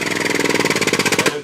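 A hydraulic punch on a MultiCut balanced drive system works through a punch, giving a steady pulsing mechanical drone with regular rapid beats, loud and close, with no talk, ending abruptly.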